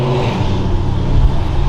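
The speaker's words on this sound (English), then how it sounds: "got a Camaro over there with an exhaust" A Camaro with an aftermarket exhaust gives a loud, close, continuous rumble that stays at an even level for under two seconds, with no talking.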